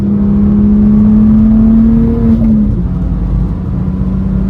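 Turbocharged BMW 335i running at about 20 psi boost, its engine revving with a steady loud drone that climbs slightly in pitch and then eases off, heard close and alone in a rural setting.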